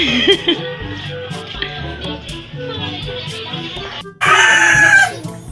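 A rooster crows loudly up close, with clucking and other farmyard noises around it.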